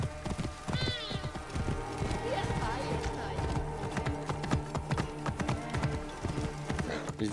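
Hooves clip-clop in a quick, steady rhythm close by, with a horse's whinny early on and a busy background underneath, in the video game Assassin's Creed Origins.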